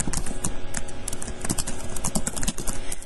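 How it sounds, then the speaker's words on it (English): Rapid, continuous clatter of typing on a computer keyboard while entering personal details into a university form, the keys clicking close and steady at a busy, uneven rhythm. "the first thing you want to do is type in the information"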